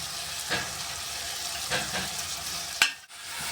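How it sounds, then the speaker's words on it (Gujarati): Tomatoes added to brinjal and flat bean sabzi in a pan, a steady frying sizzle with a few stirring scrapes and a sharp clank near the end, close and moderate. "હવે આપણે ટામેટા નાખી દીધા હવે આપણે એમાં ગોળ બધું બરાબર મિક્સ કરવાનું છે"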